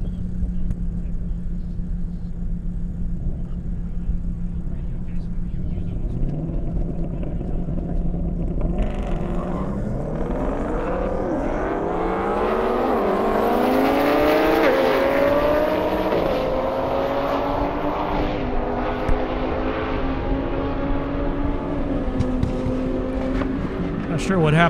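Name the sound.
Lamborghini Huracan and Viper cars racing at airstrip drag event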